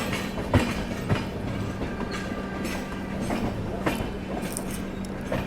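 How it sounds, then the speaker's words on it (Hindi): Rumble and clickety-clack of the Dehradun Jan Shatabdi Express passing on nearby rails, heard from a stopped train at the Ghaziabad outer, a steady rolling roar with periodic wheel clacks. "ये देहरादून शताब्दी जन शताब्दी लग रही है मेरे को।"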